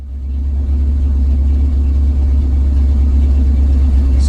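Car engine idling smoothly after timing and carburetor adjustment, a steady low rumble with an even pulse, close and loud, no voices.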